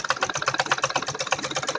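A sewing machine runs steadily while stitching a kurti seam, its needle chattering in a fast, even mechanical rhythm that is close and moderately loud, with no voices.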